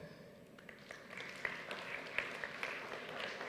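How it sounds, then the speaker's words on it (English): Audience applause for a presenter at a cleantech startup pitch event, a steady wash of many hands clapping at moderate level with a few sharper claps standing out, no voices. "Let's give her a round of applause"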